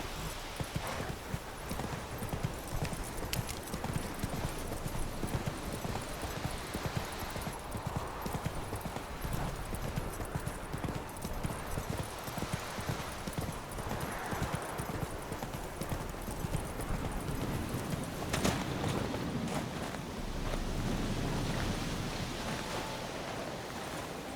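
Roach the horse galloping in the video game The Witcher 3, fast steady hoofbeats running loud and continuous throughout over a broad wash of wind- or surf-like noise.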